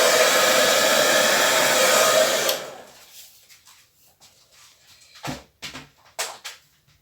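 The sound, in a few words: hair dryer blowing over acrylic paint pour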